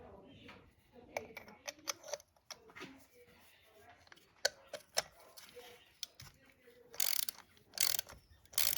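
A ratchet with a spark plug socket loosening the spark plug on a Kawasaki ZX6R motorcycle, quiet irregular clicking strokes close up, with a few louder rasping bursts near the end.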